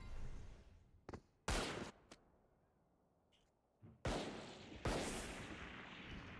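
Gunfire rings out in a Valorant esports match: several loud, sharp shots and short bursts, spaced irregularly with quiet gaps between them, punctuated by brief fainter pops.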